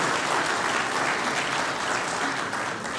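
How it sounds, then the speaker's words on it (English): A conference audience gives a round of applause for a public utilities minister at a Caribbean regional water loss event, dense sustained clapping that stays loud throughout before easing slightly at the end. "a round of applause for the Honorable Minister Marvin Gonzalez"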